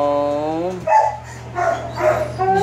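A mother dog in a shelter kennel gives a drawn-out whine followed by several short, close yips and barks, loud and clear against a steady low hum.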